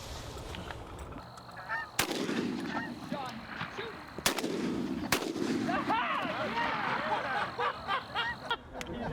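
Two sharp, loud shotgun blasts go off a couple of seconds apart during a hunt, while a flock of geese honks and calls noisily all around before and after the shots.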